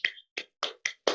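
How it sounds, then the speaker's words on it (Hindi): Hands clap at a business event to welcome a doctor, five separate, spaced claps, close and clean with silence between them and no talk. "जोरदार तालियों के बीच में इनवाइट करूंगा"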